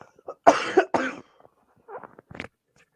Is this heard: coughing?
yes